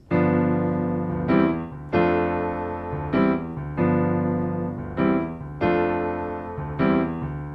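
Piano plays repeated rich second-inversion chords in a steady pattern, each struck firmly and ringing, with a moving low left-hand bass line underneath.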